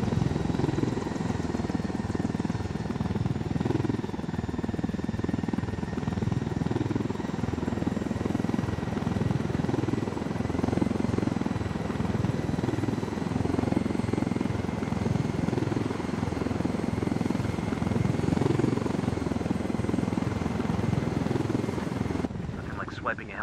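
A helicopter in Ghost Recon Wildlands drones on without a break, a loud, even rotor and engine rumble close by for the whole stretch, with voices heard now and then over it.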